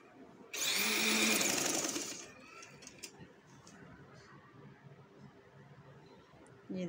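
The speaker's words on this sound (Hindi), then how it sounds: "इसके ऊपर हमने सिलाई लगानी है किनारे पे, इसके पट्टी की हम सिलाई लगाएंगे" Sewing machine stitching along the edge strip of a black trouser, a loud steady whirring run of about a second and a half that stops abruptly, followed by quiet handling noise.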